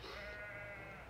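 A sheep in the woods lets out one drawn-out bleat, faint and distant, over low background rumble.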